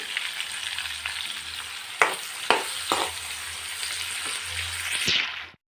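Chopped onions and green chillies fry in hot oil in a pan for a fish curry, giving a continuous close sizzle with a few sharp clicks of a spoon stirring against the pan.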